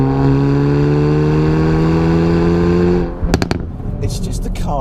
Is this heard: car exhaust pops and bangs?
yes